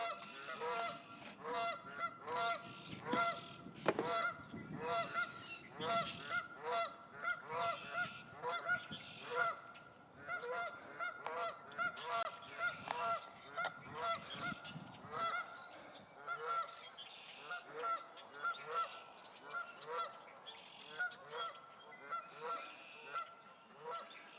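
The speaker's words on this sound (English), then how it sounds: "Canada goose, 2 of them just landed right there" Canada geese that have just landed close by near a group of ducks, honking steadily and loudly for a long stretch in repeated nasal calls that overlap and come in waves, outdoors with no talk.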